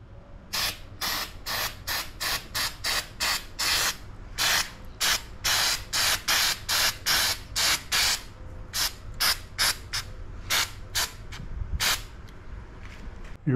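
Aerosol spray paint applied as another coat to a plastic car bumper, heard in a long series of short, close hissing bursts in a steady stop-start rhythm with no one speaking.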